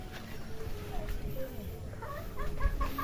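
Chickens cluck softly nearby in short, scattered bursts, with a person talking quietly over them.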